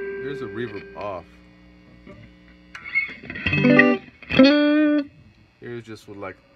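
A Telecaster-style electric guitar played through a 1978 Roland GA-20 solid-state amp with a 12-inch speaker, reverb switched off: a few separate notes and short chords ring out, each followed by a brief quiet gap.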